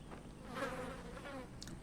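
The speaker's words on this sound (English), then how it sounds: "So you gotta add the flies buzzing for Georgia." Flies buzzing faintly in a war drama scene, a soft wavering drone with the insects drifting near and away over a quiet background.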